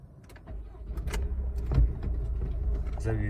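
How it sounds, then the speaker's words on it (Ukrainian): A 2015 Honda CR-V 1.6 diesel engine cranks and catches, settling into a low idle amid faint clicks and clatter. "Так, заведемо автомобіль."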